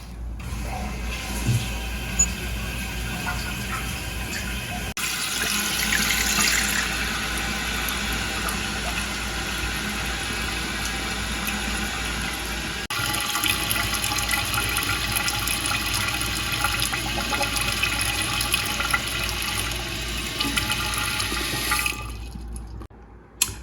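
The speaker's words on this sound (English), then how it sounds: "Now we can turn the water on, fill it up," A 1965 American Standard toilet tank refills after a new flush gasket is fitted, with water rushing and hissing steadily for about twenty seconds, rising in intensity partway through, before the flow cuts off near the end.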